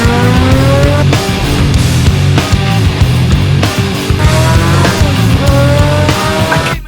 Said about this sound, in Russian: Перед вами мотоцикл Honda CB600 Hornet второго поколения, который начал выпускаться в 2003 году.